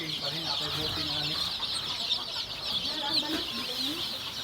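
Chickens clucking at an agricultural research and experiment station farm, a steady run of soft clucks and calls over constant insect-like background hiss, with faint voices nearby.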